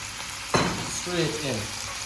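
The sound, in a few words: ackee added to hot pan, frying and stirring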